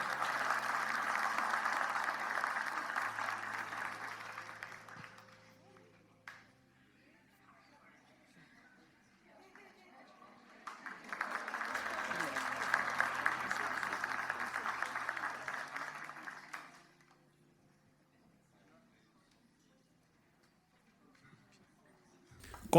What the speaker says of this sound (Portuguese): uma salva de palmas para essa família tão especial